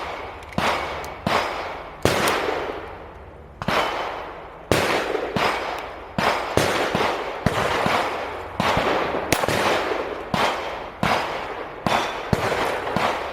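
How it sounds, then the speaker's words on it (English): Pistol drawn and fired in single shots at a target outdoors in the Seattle area: roughly fourteen sharp, loud reports, each with a short decaying tail, spaced irregularly about a second apart. "So I'm just going to do a few draw and single shots."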